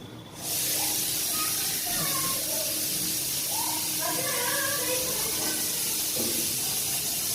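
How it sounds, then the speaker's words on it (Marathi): A pressure cooker vents steam with a loud, continuous hiss that starts abruptly and holds steady, with faint voices murmuring underneath. "कुकर से आवाज है वो कुछ"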